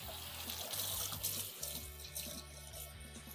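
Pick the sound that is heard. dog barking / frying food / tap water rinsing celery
tap water rinsing celery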